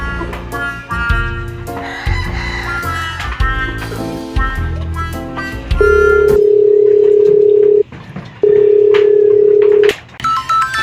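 A telephone rings out while a call is placed to papa, with long steady electronic ring tones in two bursts, loud and close, after a stretch of busy tonal music-like sound.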